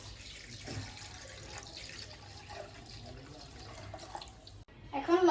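Plain water pours into a container for a mint and lemon sharbat, a steady running splash that lasts most of the moment, with a brief clatter near the end.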